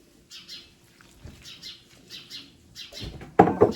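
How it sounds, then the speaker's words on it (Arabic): Sparrows chirp in quick repeated bursts, bright and fairly near, with a brief louder thump of handling noise near the end, in a kitchen during dough kneading. "سامعين صوت العصافير يا ولاد؟"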